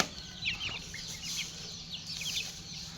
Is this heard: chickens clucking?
yes